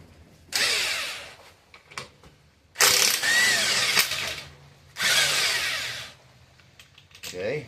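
A power tool, likely an impact gun, spins a bolt out of an engine's harmonic balancer during a motor teardown, in three loud bursts of whirring and rattling separated by short pauses.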